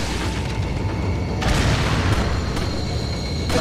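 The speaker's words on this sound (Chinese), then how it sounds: "一定有一个地方有在丢那个炸弹" A bomb blast in Resident Evil 4 Ultimate HD Edition, a dense, loud, continuous low rumbling roar that swells slightly partway through and fills the whole stretch without pause, with no voices.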